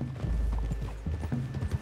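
Horses walking through a wooded clearing, a close, steady series of hollow clip-clop hoofbeats in uneven rhythm, with no talking over them.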